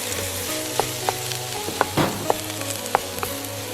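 Steady sizzling of pork and garlic stir-frying in a hot pan, with scattered clinks and scrapes of a utensil stirring, close and continuous.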